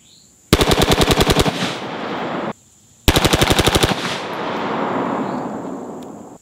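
Select-fire rifle firing two rapid automatic bursts of roughly ten rounds each, one with a flash hider and one with a Surefire War Comp, loud and close, each burst followed by a lingering outdoor echo and separated by a brief silence.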